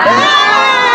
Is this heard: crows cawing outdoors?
no